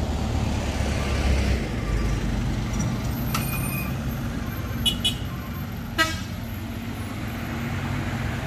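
A heavily loaded Tronton truck grinds uphill with a deep, constant low engine drone, joined by short horn toots and a hiss partway through.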